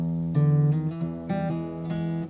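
Acoustic guitar picking out the fretting-hand part of a blues pattern, a short bluesy run of clear, close, ringing notes played alone.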